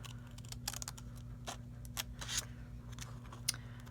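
Scissors trim an index card in a series of quiet, crisp snips at an uneven pace over a low steady hum.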